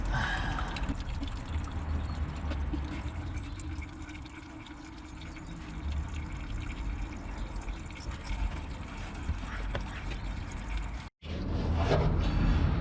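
Diesel drains from a Volvo D5 fuel filter with a steady trickling, splashing flow that runs continuously, then breaks off briefly near the end before resuming, heard close and with no talking.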